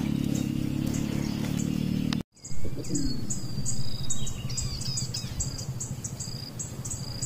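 Recorded bird calls played through a phone speaker as a lure outdoors, with sharp, repeated high chirps and whistles in quick bursts over a constant drone of insects and a low rumble.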